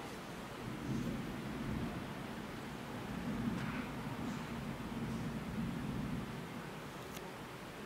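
Low rumbling of thunder during a thunderstorm in Oswego, a broad steady roll with faint rain-like hiss across the whole stretch and no talking.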